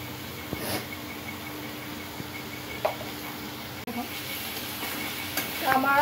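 Potatoes stir-fried in a pan, a close, steady sizzle broken by repeated scraping stirs and spatula knocks, with faint background sounds.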